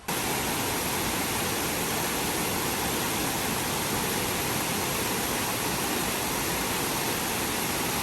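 Waterfall beside a boardwalk on the Appalachian Trail in Vermont, a loud, steady, broadband rush of falling water that holds unchanged for the whole stretch with no voices.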